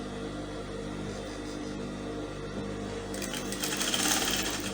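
A sewing machine stitches organza for ruffled sleeves, running steadily in a continuous close mechanical whir that grows a little brighter and louder near the end, with no voices.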